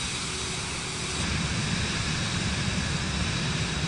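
Aircraft taking off in Microsoft Flight Simulator 2024: a steady, loud broadband engine roar that swells slightly partway through, with no voices.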